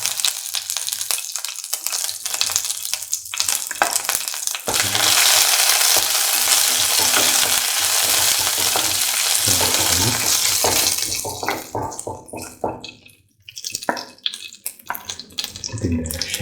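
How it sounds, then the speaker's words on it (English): Curry leaves and Kashmiri chillies dropped into hot oil for a tomato coconut stew, a loud crackling sizzle bursting up and then fading into stirring and clattering pan noise, no speech. "Put in the curry leaves."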